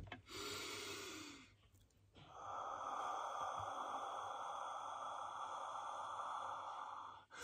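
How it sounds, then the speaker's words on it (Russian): Slow, deliberate breathing during a voice warm-up, in through the nose and out through the mouth: a short airy intake, then a long, steady, breathy exhale, close to the microphone with no speech. "Вдыхаем носом, выдыхаем ртом слегка согреваем наши связки а, нашим теплым дыханием."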